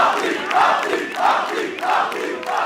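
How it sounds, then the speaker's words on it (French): Crowd acclamation at a French rap battle, loud surging cheers and shouts from the audience in repeated waves, with no talking over them. "s'offrira sa première acclamation du public pour son premier battle"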